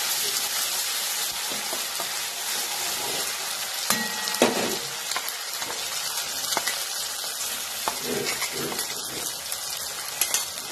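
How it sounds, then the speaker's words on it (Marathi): Masala paste for paneer tikka fries in hot oil over a low flame, a dense, steady sizzle broken by occasional clinks and stirring scrapes, heard alone without talk. "त्याच्यामध्ये जो मसाला आपण पेस्ट केलेला आहे तो याच्यामध्ये घालायचा"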